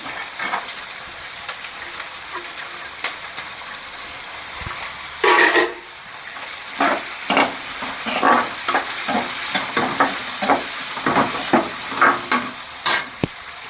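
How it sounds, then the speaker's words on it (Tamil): Crushed garlic fries with sliced onions in hot oil for a Tamil kara kuzhambu, a steady close sizzle punctuated by repeated scraping strokes of a spoon stirring the pan. "அதுக்கப்புறம் கொஞ்சமாக பூண்டு நசுக்கி போடுறேன் நான்"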